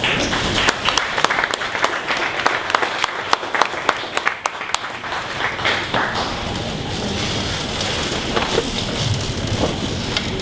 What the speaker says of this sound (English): So please stand up one more time. Big round of applause.